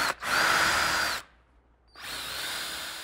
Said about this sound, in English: The key is to drill the hole nice and parallel in the plywood or square.